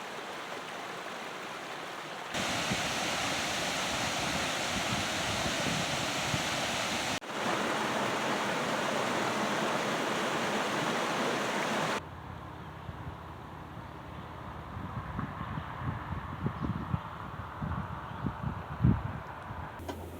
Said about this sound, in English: I believe it's worth listening to the voice of water.